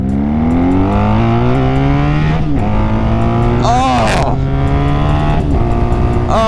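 A Honda Magna motorcycle is ridden on the road, its engine loud and close, revving up through gears with shift breaks and steady bursts of acceleration against wind noise.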